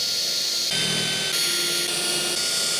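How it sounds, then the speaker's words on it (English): A power drill whines steadily while boring small pilot holes into a truck's metal tailgate, one continuous high-pitched run with a slight shift in pitch partway through, loud and close. "I'll hold that in place while I drill some small pilot holes."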